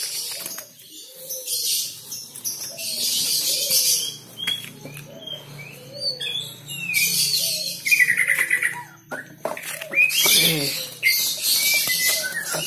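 A young wild white-rumped shama (murai batu) chirps while being handled and caught, giving short, fairly close tweets and squeaks scattered over a rustling background, with no talk.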